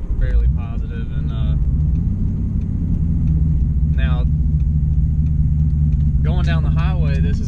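A Ford Mustang SN95 cruises on a highway in fifth gear, its low, steady engine and road rumble droning continuously while someone talks over it in short bursts.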